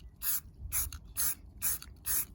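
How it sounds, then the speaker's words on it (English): A spray paint can sprays in five short, evenly spaced hissing bursts with brief silences between them, close and clear. "I start the spray, move across, and then right after I pass it, I let go again"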